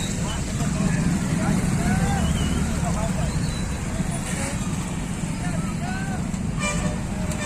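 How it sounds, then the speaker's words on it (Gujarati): Stuck traffic on a rain-soaked road near a fair at an ashram, with a steady roar of engines and occasional horn toots, while people talk nearby throughout. "તો મિત્રો ટ્રાફિકમાં હલવાઈ ગયા છે"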